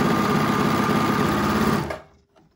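An overlock machine stitches down a fabric face-mask seam with a fast, steady mechanical whir, close and loud, then stops abruptly and leaves near silence.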